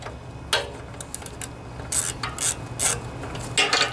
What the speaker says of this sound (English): I have my 10 millimeter socket here.